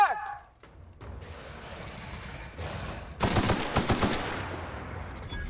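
A ranged weapon fired in the video game The Outer Worlds, heard as a loud rapid burst of shots after a few quieter moments, with one more short shot at the end.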